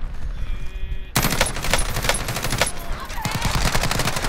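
Rapid automatic gunfire in Call of Duty Modern Warfare starts abruptly and keeps going as fast, loud, close bursts with a second weapon joining near the end.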